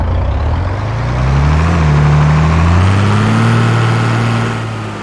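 A John Deere 5020 tractor engine in Farming Simulator 22 revs up and holds at max rev, a heavy rising drone with a turbo-like whine, then eases off slightly.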